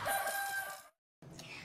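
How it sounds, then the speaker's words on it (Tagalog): A rooster crows loudly and close by in one drawn-out call that breaks off into a short silence, followed by faint background noise, with a voice nearby. "Tatay, may mga manok."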